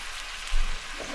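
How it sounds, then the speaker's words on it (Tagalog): Squid sautés in a pan for an adobong pusit dish, a faint steady sizzle with a soft low bump partway through, heard alone. "ilagay na natin yung ating puset. Gigisa lang natin"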